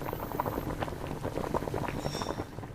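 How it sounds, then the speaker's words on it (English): A pan of tomato sauce boiling in a VR cooking game, heard as a dense, steady bubbling and popping at moderate loudness, close up and uninterrupted. "Okay, we got it boiling."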